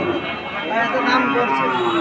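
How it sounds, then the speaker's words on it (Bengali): Cows moo loudly and close by at a cattle market in Udaypur, their long, drawn-out calls overlapping amid the murmur of a busy crowd. "এই আছে অনেক গরু আছে"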